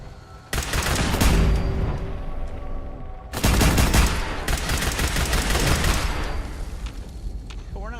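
Automated turrets in the video game Fallout 4 fire in bursts of dense rapid gunfire, loud and close, with a short pause before a second long volley; no talk is heard.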